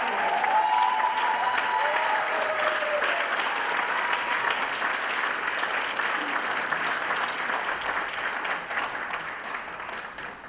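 A conference audience at a summit breakfast applauds as a speaker is welcomed to the stage, steady sustained clapping from a roomful of people that slowly fades toward the end.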